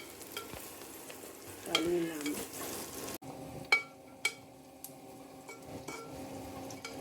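Mutton curry cooks in a pot on a stove, with a steady low simmer and sizzle under sharp clinks of a spoon stirring against the metal pot; a voice speaks a single word.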